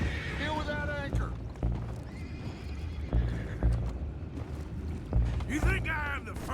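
Horses whinny and neigh amid clip-clopping hooves in Red Dead Redemption 2, set near a boat and water, with several shrill calls at the start and end and voices talking over the scene.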